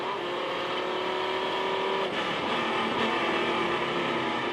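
BMW race car at the Oak Tree Grand Prix, a loud engine roar with a sharp gear change partway through and a commentator talking over it.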